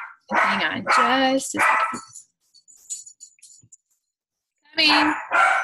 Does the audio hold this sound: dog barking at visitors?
yes